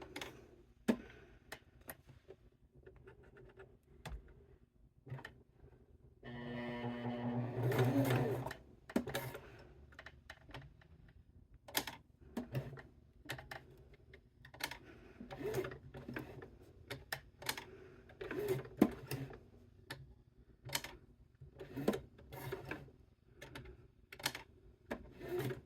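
A hand-cranked sewing machine stitches a pocket on a cork and fabric wallet. It makes bursts of quick mechanical ticking and clattering with short pauses between runs, and one longer, busier whirring stretch near the start.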